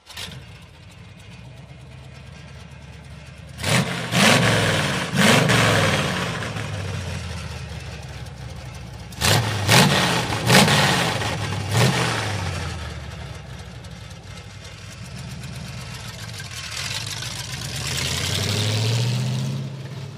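A 1967 Chevy truck's 283 small block V8 with mufflers idles with a deep, steady burble, then bursts into several sharp, loud revs in two clusters before settling back to idle.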